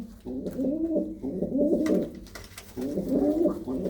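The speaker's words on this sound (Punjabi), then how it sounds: "ਆਹ ਕਬੂਤਰ ਦਾ ਵਜੂਦ ਦੇਖੋ ਜਿਹੜਾ ਗੁਟਕਦਾ ਪਿਆ" A pigeon coos in repeated rolling bursts, close and fairly loud, with brief pauses between phrases and no voices.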